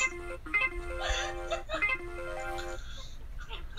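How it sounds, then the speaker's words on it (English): A phone ringtone plays a bright, jangly electronic melody like a slot machine payout, with repeated tonal bursts and steady chiming over about four seconds, loud and close. "You're a phone, not a slot machine."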